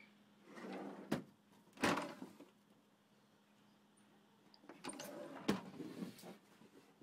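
Drawers slide open and shut inside a 1972 Rambler trailer, a few quick wooden knocks and rumbling slides spaced apart, close and moderately loud in a quiet interior with no talking.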